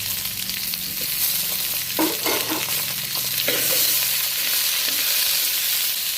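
Bottle gourd pieces, tomato, peanuts and chana dal fry in a pan for chutney, sizzling steadily up close as they are stirred, with a few scraping stirs breaking through and no voices.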